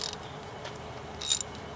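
A socket wrench ratchets on a 13 mm bolt while a Yamaha fuel injector is being swapped, giving a few quick close clicking bursts, the loudest near the end, against quiet background.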